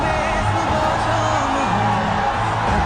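A large crowd of fans shouts and cheers for Shah Rukh Khan, a steady dense roar of many voices with rising whoops, loud and continuous throughout.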